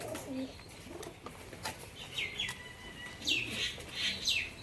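Pairs of Giribaz high-flying pigeons coo in low, soft rolls, followed by brighter chirps and a few quick flutters, moderately close and fairly quiet against a steady background hiss.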